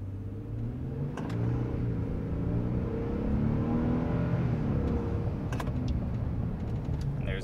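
A 2022 Toyota Tundra fitted with a TRD exhaust revs in neutral to about 4,500 RPM, the engine note climbing from a low rumble into a sustained, throaty roar heard close up, with a few faint clicks.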